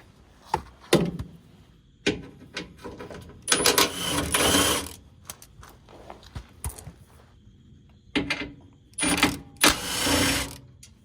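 Bolts coming off a fuel tank skid plate under a 2024+ Toyota Land Cruiser, with close, uneven bursts of ratcheting and clattering metal separated by short pauses.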